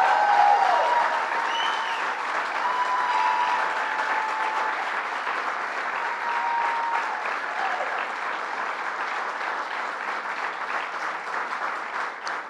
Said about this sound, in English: So let's give Planned Parenthood a big round of applause.